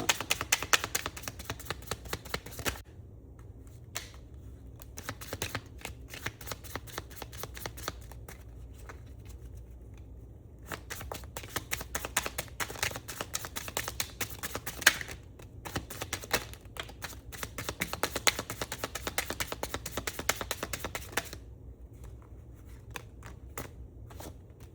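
A deck of tarot cards is shuffled close up in long runs of rapid papery flicks, broken by brief pauses, with no talking.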